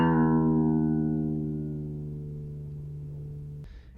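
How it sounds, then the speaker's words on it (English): A single plucked string rings out and its pitch slowly slides downward as the string is loosened while it sustains, then cuts off abruptly with a brief noise at the end. "If I loosen the string, reducing the string tension,"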